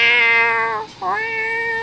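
A cat meows loudly in a long, wavering call that dips and rises again, close and clear with no talking over it.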